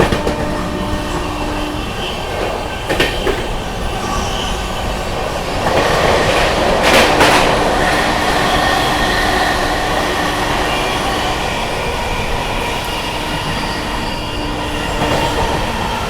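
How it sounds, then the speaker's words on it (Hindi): The 12302 New Delhi Howrah Rajdhani Express runs through Mirzapur railway station without stopping, giving a loud, steady rumble of wheels with clickety-clack and brief sharp squeals, heard continuously up close. "क्या ही तो स्किप मार रही है भाई अपनी हावड़ा राजधानी मिर्जापुर रेलवे स्टेशन को"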